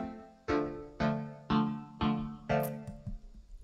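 Soft pluck synth preset from Minisynth in FL Studio Mobile, soloed, playing evenly spaced plucked notes about twice a second, each with a quick attack and short decaying tail, clean and alone with no voice.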